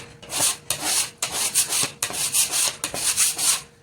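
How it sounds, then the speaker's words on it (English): A hand tool scrapes dried clay dust and dry clay off a cutting board, with about seven close, rhythmic dry rasping strokes, each a short gritty burst separated by brief pauses, with no talking. "I grab this tool to just scrape off the clay dust and the dry clay"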